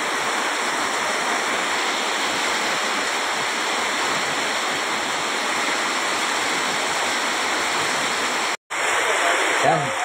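Heavy typhoon rain pours down in a steady, dense roar that fills the whole clip, loud and close, with a brief break near the end and faint sounds after it.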